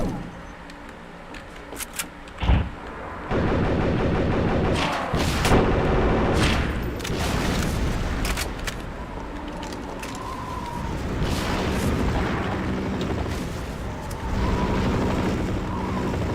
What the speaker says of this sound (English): Was that rockets?